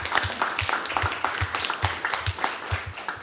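Applause during a city council meeting, a modest group clapping in an uneven rhythm for a few seconds, close and fairly loud in a meeting room.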